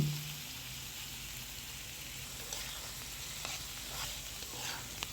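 Prawns frying in a pan for spicy prawn bhuna, giving a steady, soft hiss of sizzling with a few faint pops and stirring clicks throughout.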